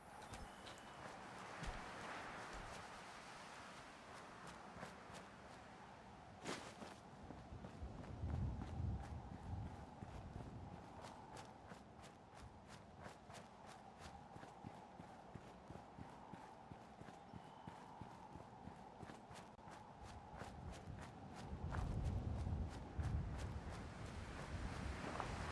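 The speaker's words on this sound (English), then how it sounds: "Sworn I just heard footsteps." Footsteps in Fallout 4 with horror mods: a steady run of soft, evenly spaced steps that carry on for the whole stretch, with a low rumble of ambience underneath and no voices.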